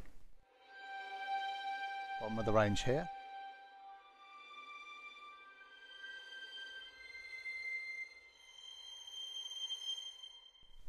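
Spitfire Audio Mural symphonic strings sustain high, glassy harmonics as a steady layered tone, with a voice speaking briefly over it near the start.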